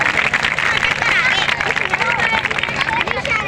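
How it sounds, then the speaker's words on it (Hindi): Crowd clapping and cheering at a gathering, dense and continuous applause with a hubbub of voices throughout. "ताली बजाओ भाई।"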